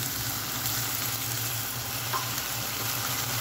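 Meat mixture with added water being stirred in a pan for eggplant and potato moussaka, giving a steady, close sizzle and frying hiss with soft stirring scrapes throughout, no talking.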